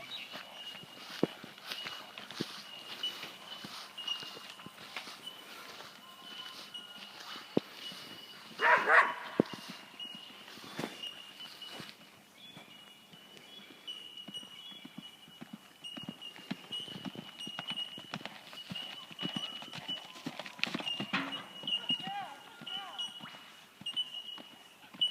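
Horse hooves thud and clip-clop at a canter on an outdoor track during a riding lesson, a repeating rhythmic beat at moderate distance, with a dog barking faintly in the background.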